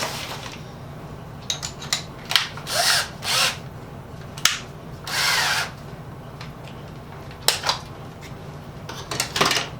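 Battery-operated power drill in a home workshop, running in several short bursts of a few seconds each with pauses between, close and fairly loud, along with small clinks of tools and metal parts.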